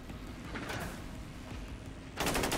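Gunfire in the XCOM 2 video game crackles in dense rapid bursts, a continuous rattle that swells louder near the end, with no one talking over it.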